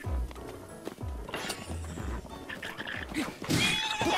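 Horse hooves clop in Zelda: Breath of the Wild video game, a run of thudding footfalls with a whinny near the end, moderately loud under game ambience.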